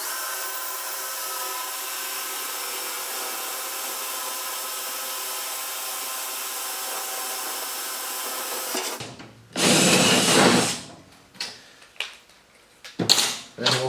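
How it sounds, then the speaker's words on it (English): Power drill boring tapping-size holes for truck bed storage drawers: a steady hum runs for several seconds, then loud grinding bursts of drilling follow in short, separate pulses up close. "we'll drill them with the tapping size."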